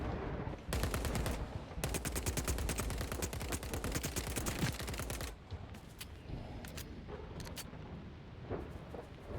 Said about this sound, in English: gunshots again